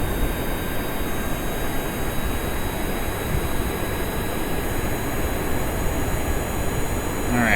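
A paper-airplane-style aircraft takes off in the video game Kerbal Space Program, producing a loud, steady engine roar that holds unbroken throughout with a faint high whine on top and no speech.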